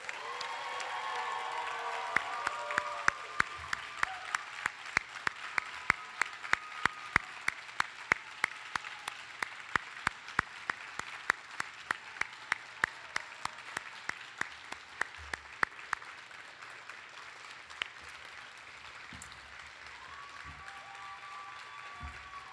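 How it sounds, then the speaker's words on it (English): Audience applause at the class of 2026 diploma ceremony, a sustained wash of many hands clapping with crowd murmur and occasional cheers that swells and then slowly thins out near the end. "Can we all give the class of 2026 a big round of applause?"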